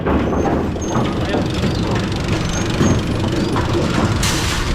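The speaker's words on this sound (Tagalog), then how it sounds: "papakita ko lang yung oiling machine na umaandar na at nililinisan na yung" A bowling lane oiling machine runs and cleans the lane, giving a steady mechanical whir with ratcheting, geared clicks throughout at constant loudness, plus a brighter burst near the end, with faint voices in the background.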